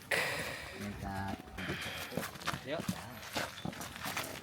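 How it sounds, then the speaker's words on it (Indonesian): Sheep hooves clatter on a truck bed as an animal climbs aboard during Eid al-Adha livestock handling, a few irregular knocks and scrapes mixed in with nearby people talking. "Ya, satu domba naik."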